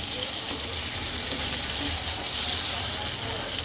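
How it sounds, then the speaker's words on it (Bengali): Pre-boiled potatoes fry in a pan, a loud continuous hiss and sizzle of hot oil that holds steady from start to finish. "খুব বেশি ভাজবো না দু থেকে তিন মিনিট ভাজলেই হবে"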